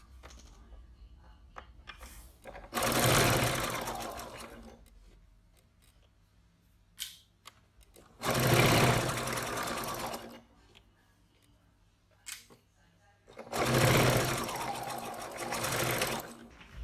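A sewing machine stitches through folded fabric layers in three loud, close runs of rapid whirring, each lasting about two seconds, with quiet handling clicks and snips between them.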